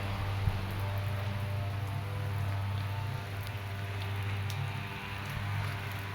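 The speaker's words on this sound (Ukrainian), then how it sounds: "Дощ не припиняється. Дощ вдень і вночі." Steady rain falls day and night over a garden with clematis and hostas, a dense even patter of drops on surfaces with occasional louder plinks, close and continuous with no voices.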